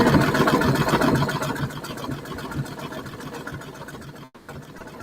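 A domestic sewing machine stitches in a fast, rapid mechanical chatter that runs steadily, fades slightly, then cuts off abruptly near the end, followed by quieter motor hum.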